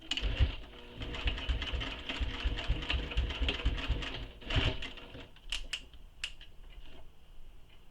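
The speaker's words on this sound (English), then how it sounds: "now we're going to sew the sides and the bottom edges of the pocket" A sewing machine runs steadily, stitching the sides and bottom edge of a fabric pocket with backstitching, then stops, leaving a few light clicks and taps.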